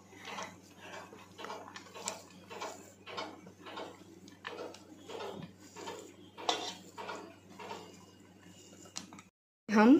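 Cashew, almond and raisin kofta stuffing being mixed in a bowl, giving a steady run of close clinks and scrapes of spoon against dish, with a faint low hum behind and no talk.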